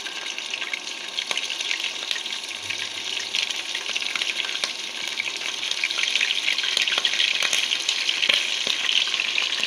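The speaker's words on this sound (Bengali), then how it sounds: "তেলটা গরম হয়ে গেছে এখন আমি প্রথমে আদা বাটা দিচ্ছি" Ginger paste dropped into hot mustard oil sizzles steadily and loudly, a dense, even frying hiss with small pops that builds slightly over the whole stretch.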